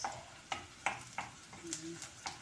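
Onions frying in a pan, with a spoon or spatula scraping and stirring in about six sharp strokes over a steady low sizzle, heard close and with no talking.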